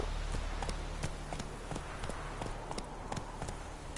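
Roach, Geralt's horse in The Witcher, is ridden along with a quick, regular patter of hoof strikes, fairly faint and close, running steadily through the stretch over a low game ambience.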